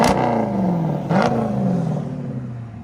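Deep, loud exhaust note from a 2018 Dodge Durango SRT 392 with a 6.4L HEMI V8, Corsa Extreme exhaust and rear muffler delete, revving up twice in quick succession and settling back into a throaty, rumbling idle.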